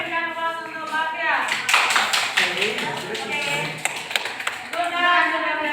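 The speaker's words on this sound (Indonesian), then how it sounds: "berikan aplaus untuk Bapia" Scattered hand claps from a small group at a school coaching session, short and uneven, mixed with voices and singing.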